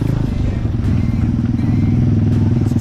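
Pit bike engine revving steadily up close while riding through swampy ground near an abandoned oil refinery, a continuous loud low motor drone with some clatter and splashing over the full stretch.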